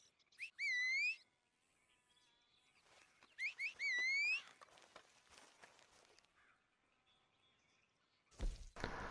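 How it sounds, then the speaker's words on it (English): Two bursts of rising, warbling whistles calling a horse in Red Dead Redemption 2 Online, each followed by quieter clattering and thuds, then a sudden loud rumbling burst at the end. "upon whistling for the horse and it not turning up"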